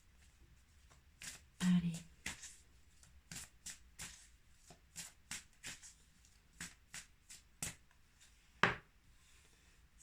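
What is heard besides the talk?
tarot cards being shuffled and drawn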